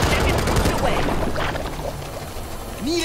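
An AK rifle fires rapid shots in the Back 4 Blood video game, a quick rattling run of close gunshots at the start that fades into game ambience while people talk over it.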